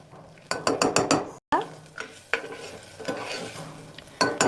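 Onions frying in hot oil in a home kitchen pan for a sprouted-gram curry, with a spoon scraping and clinking against the vessel in quick strokes over a steady sizzle, close and fairly loud, no voices.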